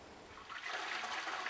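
Toilet flushing: a short rush of water that swells and holds at a steady hiss, close and fairly quiet, with no voices.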